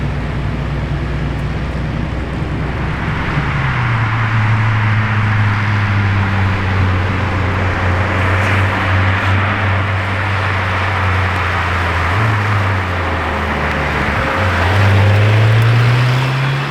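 An uncamouflaged Lamborghini Temerario supercar on a testing run gives a loud, steady engine drone that shifts pitch several times as it moves along, with no talk over it.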